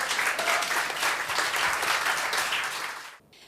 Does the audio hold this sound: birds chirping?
no